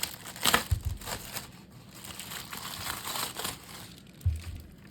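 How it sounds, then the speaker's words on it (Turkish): Cellophane wrap is pulled off the box of a DIERYA DK61 SE keyboard, giving close, intermittent crinkling and crackling bursts with quiet gaps between them. "Jelatinini çıkartalım."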